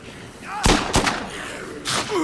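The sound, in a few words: gunshots from a gun in the video game Dead Rising 2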